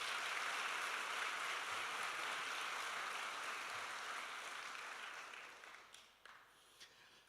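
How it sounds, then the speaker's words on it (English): Sustained applause from a graduation ceremony audience for a symphonic wind ensemble, a steady soft wash of many hands that holds evenly and then thins and fades out near the end. "Please help me in giving them a warm round of applause"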